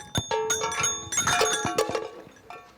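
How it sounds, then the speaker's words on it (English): Several small bells jingling and clanking as they are picked up and handled, bright overlapping rings with uneven knocks, close and fairly loud with no talk. "Got some bells."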